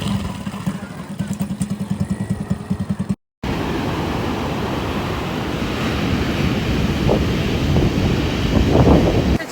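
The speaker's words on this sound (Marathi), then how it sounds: "केवढ्या मोठ्या लाटा आहेत, खूप जास्त" Big ocean waves roar at Kovalam beach, Kerala, under heavy wind buffeting, with an engine puttering briefly at the start.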